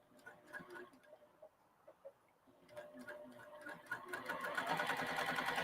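A domestic sewing machine running in reverse while stitching a handbag, a soft intermittent whir that grows louder and steadier toward the end, with a voice talking faintly underneath.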